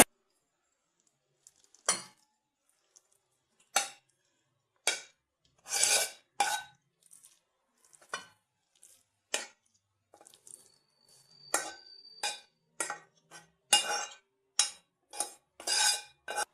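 Cooked okra palya scraped from a pan into a serving bowl with a metal spoon, a series of separate clinks and scrapes spread irregularly, close and clear over near silence.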